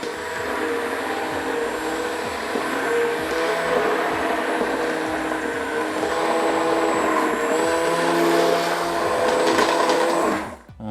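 A loud, steady motor whir of an immersion blender running continuously, with scattered irregular clicks and knocks of small bones striking the blades, cutting off abruptly at the end.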